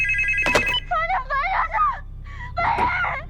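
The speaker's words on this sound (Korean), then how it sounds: "그리고 이날 밤도 다시 전화가 걸려옵니다." Telephone in a Korean thriller film, ringing in a couple of electronic bursts, mixed with wavering wailing tones and a sharp noisy hit, fairly loud and close.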